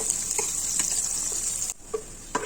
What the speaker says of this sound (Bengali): তেলের মধ্যে পেঁয়াজ কুচিটাকে নেড়ে ভেজে নিচ্ছি।